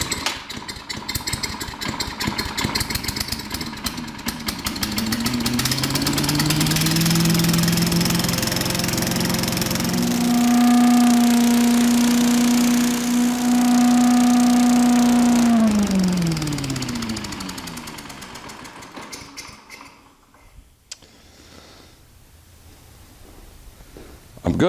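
A Sears chipper vac's small gasoline engine sputters to life and runs steadily at high revs with a rising whine, then winds down and cuts off near the end.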